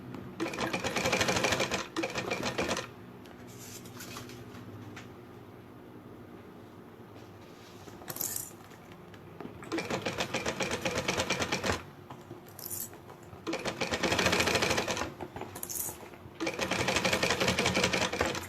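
A sewing machine stitches a sublimation-printed bag in rapid mechanical bursts, loud and close, running in several separate passes broken by short pauses for adjusting the fabric.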